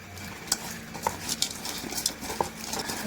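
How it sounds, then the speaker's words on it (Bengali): Raw prawns are mixed with spices in a bowl, giving close, soft wet squelches and light clicks against the dish in an uneven rhythm, with no talking. "চিংড়ি মাছের মধ্যে একটু একটু করে সব মশলা দিয়ে দিলাম। মশলাগুলো মেখে রেখে দেবো।"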